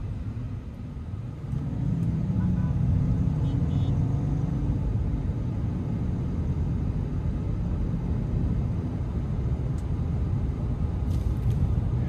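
Low, steady road rumble and muted engine hum inside the cabin of a 2023 Mercedes-Maybach S680 while driving, with faint occasional clicks and nobody talking throughout.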